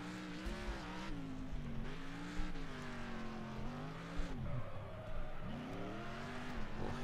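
A racing car's engine in the NextCarGame video game revs and wails continuously, its pitch sweeping up and down as the car fights wheelspin, loud and close with no speech over it.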